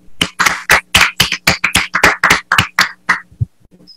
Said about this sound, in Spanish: Quiero, por favor, también que le recibamos con un aplauso.